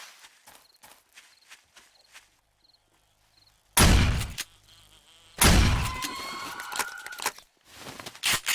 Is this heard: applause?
no